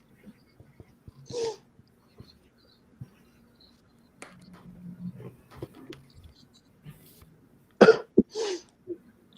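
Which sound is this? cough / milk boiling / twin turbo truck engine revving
cough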